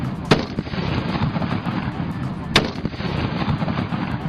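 Two sharp, heavy artillery blasts from an Indian Army mountain combat exercise ring out about two seconds apart over a constant rumbling background, each booming loudly and then fading.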